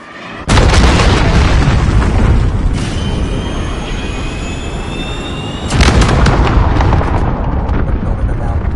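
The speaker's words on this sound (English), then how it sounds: "Enemy cruise missile incoming!" A cruise missile strike in the video game Modern Warfare lands as a loud, roaring blast that rumbles on for several seconds, with a thin jet-like whine running through it, then a second heavy burst hits and keeps roaring.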